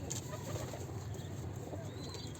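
Low, soft pigeon coos under steady background noise, faint and repeated over a couple of seconds, with no speech.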